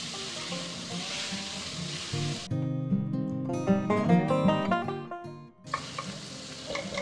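Tomatoes hitting a hot frying pan for tadka noodles, with green chillies already in it: a continuous close sizzle. Music breaks in over the middle section before the sizzling returns.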